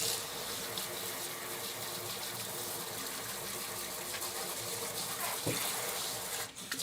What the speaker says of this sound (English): I may need to add some more water.